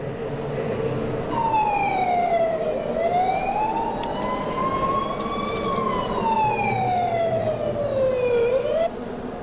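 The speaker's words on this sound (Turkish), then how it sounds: "Şu anda siren sesimizi verelim." A loud electronic emergency siren wails, its pitch sweeping slowly up and down in long rising and falling cycles over steady background noise.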